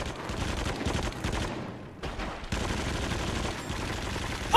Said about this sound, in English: I ran out of bullets on that gun and didn't notice.